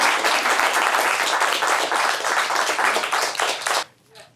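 An audience at a youth symposium at a zoo claps in a steady, even round of applause for a few seconds, then it stops abruptly, leaving near silence.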